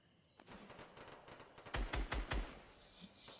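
Rapid gunfire bursts from the Fortnite battle royale video game crackle in a fast string, starting faint and growing louder into several heavy, booming shots before tailing off.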